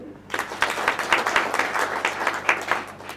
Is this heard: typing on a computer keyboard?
no